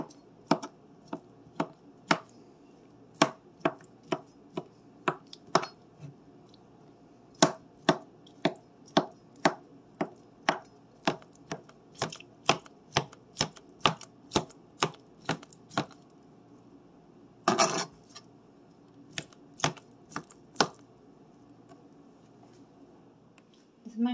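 A knife chops chicken steadily on a board, sharp regular thuds in quick rhythm with brief pauses, close and clear.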